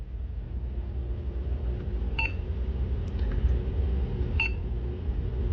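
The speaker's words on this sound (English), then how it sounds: "You can change the beep sound to either off or other." Two short electronic beeps from a digital thermostat, spaced about two seconds apart over a steady low background hum, with no talking.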